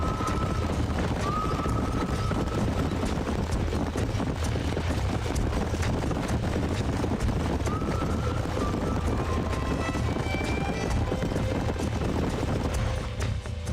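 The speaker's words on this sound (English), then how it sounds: "These are fine horses." Horse hooves clip-clop steadily through a Red Dead Redemption ranch scene, with a horse whinnying briefly amid a busy background of game ambience and music.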